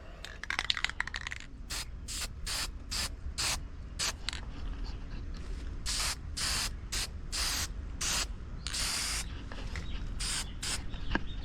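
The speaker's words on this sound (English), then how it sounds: "I'm putting the first coat of paint on it." A first coat of paint is sprayed from a can onto a mechanic's creeper being restored, heard as a series of short hissing bursts with a faint rattle and background hum, and no one speaking.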